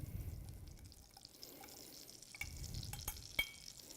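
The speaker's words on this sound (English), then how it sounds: "You want to make sure to get it all mixed together well." Butter and brown sugar being stirred together in a pan: soft, wet scraping and gentle sizzling with a few sharper clicks of the utensil against the pan, quiet and close, no voices.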